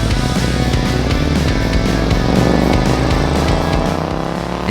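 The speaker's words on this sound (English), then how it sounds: "instead of the standard baffled pipes, it got two straight, fairly empty pipes" A Suzuki Intruder VS800 motorcycle with straight, nearly empty exhaust pipes in place of baffled ones idles and revs, a loud, rough, throbbing V-twin rumble with uneven pulsing beats, close and continuous.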